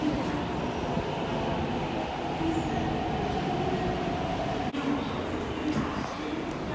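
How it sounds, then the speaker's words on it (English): Lowu-bound train arriving at platform 1 of Sha Tin Station: a steady close rumble of rolling stock with faint wheel squeal, a brief clunk midway, and station ambience throughout. "we got trains arriving, platform 1, Lowu train"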